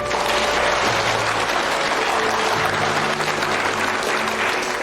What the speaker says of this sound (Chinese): 先别鼓掌